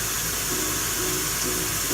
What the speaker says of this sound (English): A large cup or whatever you have to do this step, and you're just going to fill it with water.